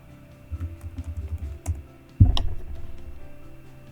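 Someone types briefly on a computer keyboard, a soft run of clicks followed by a single louder knock, close by and with no talking.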